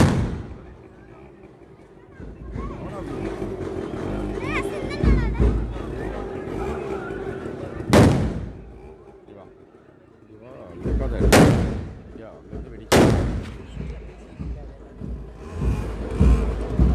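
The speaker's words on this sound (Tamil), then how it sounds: "வெடி சத்தம்லாம் கேட்க ஆரம்பிச்சாச்சு." Firecrackers burst at a village temple consecration festival in Tamil Nadu, with three loud, sharp cracks standing out over a festive crowd and ongoing talk.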